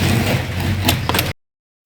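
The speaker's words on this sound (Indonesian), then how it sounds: "Nah, itu tadi suara pemotongan asli HPL-nya tanpa diedit," HPL laminate sheet being cut with an AkuratTex V1 cutter, a loud, crisp, broadband scraping rasp lasting just over a second with a couple of sharper crackles before stopping abruptly into silence.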